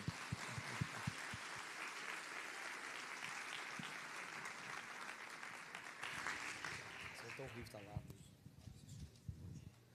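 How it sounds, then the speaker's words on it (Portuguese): A church congregation applauds for first-time visitors during a service, a quiet spread of clapping that carries on steadily before fading into murmuring voices and low sounds at the close. "Vamos aplaudir a Deus pelos visitantes"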